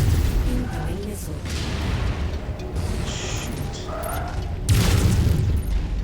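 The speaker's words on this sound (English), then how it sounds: "Incoming missile. Take him out." Incoming missiles striking a mech in MechWarrior 5 set off heavy, deep booming blasts that rumble through the battle, with a louder impact near the end and game voice callouts over the din.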